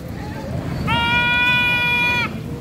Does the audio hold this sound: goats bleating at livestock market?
yes